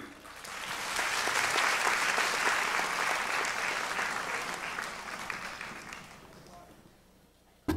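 A concert crowd applauding a singer warmly, swelling quickly and holding steady before gradually tapering off into silence.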